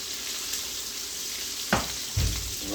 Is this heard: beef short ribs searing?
yes